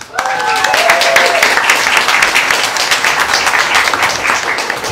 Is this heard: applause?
yes